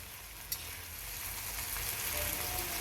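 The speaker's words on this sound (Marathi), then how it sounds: "मीठ टाकून झालं, आता मिरच्या परतून घेऊया" Green chilli fry cooks in a pan. One sharp tap at the start is followed by a steady, close crackling sizzle that builds slightly as the chillies are stir-fried.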